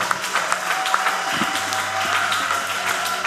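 A church congregation applauds and cheers for Jesus Christ, with steady dense clapping and crowd voices throughout a short, close, loud burst.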